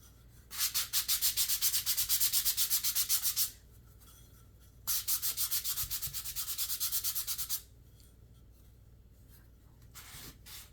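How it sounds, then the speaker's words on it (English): Wood is hand-sanded with 320-grit sandpaper for decor risers, two close runs of quick, even rasping strokes separated by a short pause. "this is 320 grit sandpaper. It's my favorite to use."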